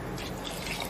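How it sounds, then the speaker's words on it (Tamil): Hot water poured into mutton biryani in an electric rice cooker, a brief steady splashing trickle with bright liquid sparkle throughout. "நான் வந்து ஹாட் வாட்டர் தான் சேர்க்க போகிறேன்."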